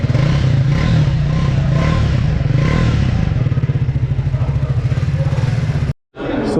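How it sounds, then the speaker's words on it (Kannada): A Triumph Speed 400 with a 400cc single-cylinder engine and a single exhaust pipe runs with a loud, close, throbbing beat that settles into rapid even pulses, then cuts out sharply near the end. "400cc ಸಿಂಗಲ್ ಸಿಲಿಂಡರ್ ಇಂಜಿನ್ ಆಗಿರುತ್ತೆ"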